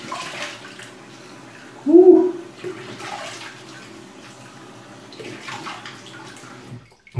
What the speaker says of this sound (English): quick rinse off,